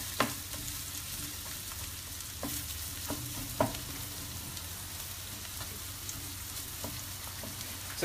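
Ginger and green chili fry with onions in oil for aloo gobhi, a soft, steady crackling sizzle with occasional sharp spatula taps on the pan.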